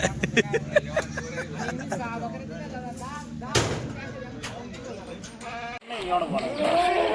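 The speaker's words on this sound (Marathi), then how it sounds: "मित्रांनो बघा दुधाच्या शेळ्या दिलेल्या आहेत" Milk goats bleat repeatedly, several wavering calls overlapping close by amid a livestock market crowd. Talk and babble run underneath, with a brief pause in the noise before the bleating resumes.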